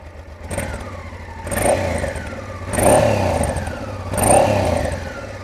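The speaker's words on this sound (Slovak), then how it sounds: "Toto, čo počujeme, je zvuk samotného motora." A Honda Africa Twin motorcycle engine runs steadily with a low rumble, rising in three distinct revving swells that peak and fall back, heard close up with no talking; exhaust barely audible.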